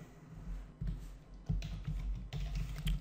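Fingers type on a computer keyboard, making a short run of soft, close keystroke taps in small clusters, with no speech.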